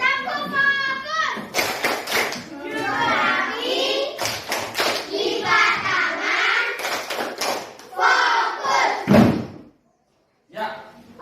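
A classroom group of children performs a rhythmic cheer clap, a series of sharp, close clap bursts alternating with chanted lines, ending in a brief pause and one last clap.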